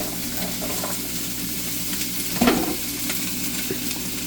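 Peeled carrots and celery fry in a pan as the base for ginger beef, a steady close sizzle with a brief louder stir in the middle.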